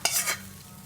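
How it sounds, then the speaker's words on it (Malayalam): A brief hiss of hot tempering hitting Kerala small-onion theeyal curry as it is poured in, a sharp burst that fades within a fraction of a second, heard close with no talk. "ഇനി നമുക്ക് താളിച്ച് ചേർക്കാം. കറി ഇതുപോലെ ഒഴിച്ചിട്ട് ഒന്ന് ചുറ്റിച്ചെടുത്തിട്ട് ഒന്ന് ചേർത്ത് കൊടുക്കാം."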